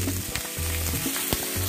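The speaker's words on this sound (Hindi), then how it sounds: "सबसे पहले हमने अनियन डाले, इसको हम फ्राई कर देंगे" Chopped onions fry in hot oil in a kadai, giving a steady close sizzle with brief stirring scrapes and clicks, no voices.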